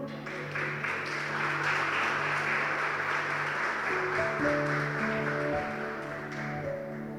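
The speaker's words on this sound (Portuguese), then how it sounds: "Dê um aplauso para o Senhor." Congregation applauding at a church service, a steady dense wash of clapping lasting throughout, with sustained music tones or organ notes underneath and no clear talk.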